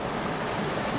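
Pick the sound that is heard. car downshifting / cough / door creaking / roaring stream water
roaring stream water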